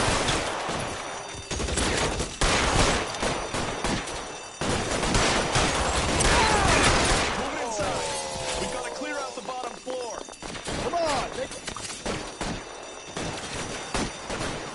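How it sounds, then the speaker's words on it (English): Bursts of gunfire crackle through a bank shootout in a video game, rapid shots clustered in the first half and then thinning out, with voices speaking over the later part. "Well, it's gonna be a big shootout then."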